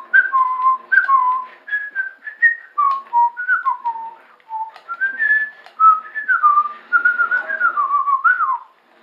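A person whistles a tune during a Timesplitters 2 gaming session, a clear melodic line of short rising and falling notes in quick phrases with brief pauses, close and alone without talk.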